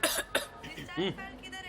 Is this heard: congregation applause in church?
no